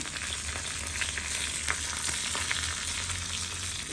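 Two Kashmiri chillies fry in hot oil in a pan for a spicy chutney, giving a steady, close crackling sizzle with small pops throughout and no voices.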